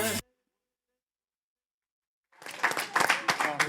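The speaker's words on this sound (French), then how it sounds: "on t'applaudit encore" After a performance at a song contest, the audience breaks into applause following a short silence, with dense clapping and crowd noise building loud and close.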